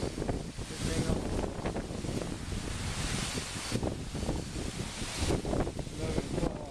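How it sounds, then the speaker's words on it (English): Steady, loud wind buffets the microphone in a broad rushing roar, with gusts swelling and easing throughout. "Wait till that wind dies down."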